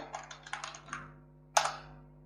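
Fingers type a short burst of quick clicks on a computer keyboard, followed after a pause by a single louder keystroke, close and alone with no talking.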